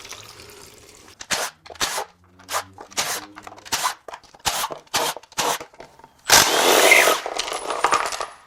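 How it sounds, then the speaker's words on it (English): Bolts and metal debris drop one after another into the removed oil pan of a damaged 2022 Ford F-150 2.7L EcoBoost V6. About a dozen sharp clinks land in an irregular rhythm, then a louder rattling burst follows. "I just heard a whole bunch of stuff fall into the pan"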